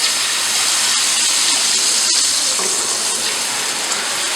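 Water tipped all at once into a hot pan of semolina for suji halwa, a loud continuous sizzling hiss and steamy rush close up, steady throughout with a couple of brief clicks and no talking.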